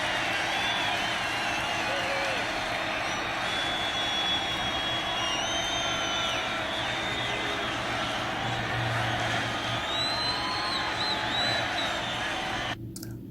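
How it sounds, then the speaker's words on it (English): A large concert crowd roars and chants in a broad, sustained wash of voices from a distance, steady throughout with no clear words or rhythm standing out. "I couldn't catch what the crowd was chanting there."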